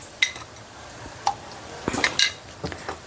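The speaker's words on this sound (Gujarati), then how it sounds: "હવે આ હલાવી નાખવી અને પછી ઢાંકી દઉં" A spoon scrapes and clinks against the side of a pot of khichdi in a few short bursts, with quiet pauses between the strokes.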